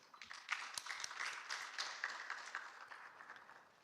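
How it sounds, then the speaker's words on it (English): An audience at a panel event on civil society in West Africa claps for a moderator taking her seat, a fairly faint, scattered round of applause that swells and then tapers off. "let's give her a round of applause"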